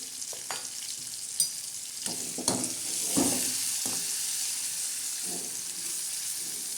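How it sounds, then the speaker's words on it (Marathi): Onion and tomato tempering for usal, a spiced sprout curry, sizzles steadily in a hot pan while a spoon scrapes and knocks against the metal in a few sharp clacks, close and alone. "उसळीला तडका द्यायचा कांद्याचा तांबट्याचा आणि त्याचा बघा तसं तडका बसत आहे"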